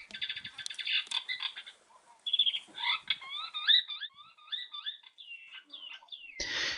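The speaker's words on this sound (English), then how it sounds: "not only did that call seem to throw all the Starlings off guard" Starlings call outdoors with a string of varied whistles, chirps and rising-falling warbling notes, fairly faint and somewhat distant, with no talking.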